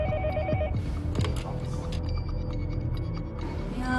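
A telephone rings at a county police command center as an emergency call comes in, with a repeating electronic ring near the start over a steady background hum.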